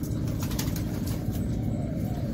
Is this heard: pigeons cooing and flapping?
yes